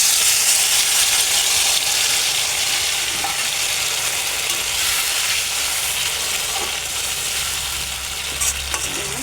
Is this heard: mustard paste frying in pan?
yes